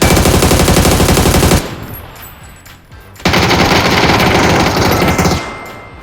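Rapid automatic gunfire in a video game rattles loudly in two long sustained bursts, separated by a quieter gap of lower firing and ambient noise.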